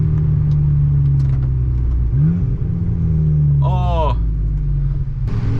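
VW Golf GTI with a custom 3-inch straight-pipe exhaust droning loudly up close, its pitch sweeping as it downshifts and blips, with a brief rising whine midway and a short exclamation from a voice.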